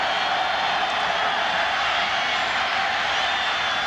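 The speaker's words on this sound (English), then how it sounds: "Crowd's on its feet." Stadium crowd at the 2004 Fiesta Bowl college football game, standing and roaring as one dense, steady wall of cheering noise that holds without a break.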